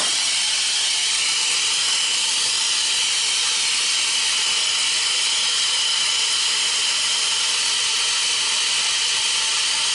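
A brazing torch heats a piece of metal held in a vise, giving a steady, even roaring hiss that stays constant and close throughout, with no talk over it.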